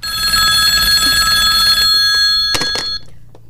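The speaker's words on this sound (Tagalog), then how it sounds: "Oh, bibag tingno ng telepono." A telephone rings loudly inside a house, a steady repeating ring with a sustained tone that runs for about three seconds, then cuts off, leaving a quiet room with no one speaking.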